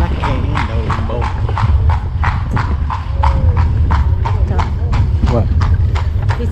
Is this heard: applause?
no